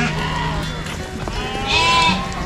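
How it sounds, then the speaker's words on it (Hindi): Colourful sheep bleat among a trader's flock gathered in Kashmir before Eid ul Adha, a few wavering cries rising close by over a busy, noisy background. "देखिए कितने रंग बिरंगी भेड़ हैं"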